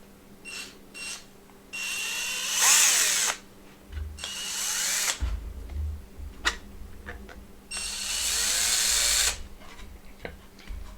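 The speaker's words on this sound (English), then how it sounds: "And so we load up our drill." A power drill bores a hole through a heart, whirring in several bursts of rising and falling pitch separated by quiet pauses, with a low grinding rumble as the bit bites in midway.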